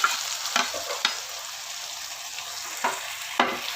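Small chicken cubes fry in a pot for a vegetable pulao and are stirred, with sharp, intermittent stirring scrapes over a soft, steady sizzle and no one talking.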